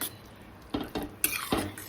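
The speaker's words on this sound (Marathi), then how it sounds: "छान हलवायचं." Vegetables simmering in a pot with added water and a mixed-in preparation for a kids' breakfast get stirred: four short, close scraping strokes after a quiet start, with no talking.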